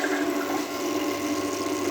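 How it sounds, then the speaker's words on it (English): Steady whir of a pump driving water through a pipe friction test rig, a continuous, even hum with rushing flow and no pauses. "Then I will turn on the pump, and I will increase the flow by opening this valve."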